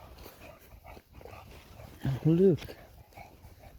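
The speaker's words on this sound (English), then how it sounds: "Hear that fucking dog?" Dog whimpering and yipping close by in a brief high, wavering burst, under a man's speech in an outdoor scene near a boat while scavenging through trash.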